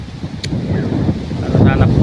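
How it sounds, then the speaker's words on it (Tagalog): Strong wind roars and buffets the microphone in continuous low rumbling gusts over a rice field, loud and close, with a brief burst of higher noise near the end. "lakas ng hangin guys sobrang lakas napakalakas"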